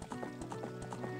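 Horse hooves clip-clopping at a quick galloping rhythm in The Legend of Zelda: Ocarina of Time, a steady, even patter of close, moderately loud game sound effects.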